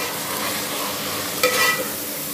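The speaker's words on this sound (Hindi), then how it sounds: "थोड़ा सा भूनना है इसको ताकि लहसुन अदरक की जो स्मेल है ना वो खत्म हो जाए।" Minced meat keema frying with garlic, ginger, crushed chilli, turmeric and salt, a steady close sizzle throughout with a brief louder stir of a spoon partway through.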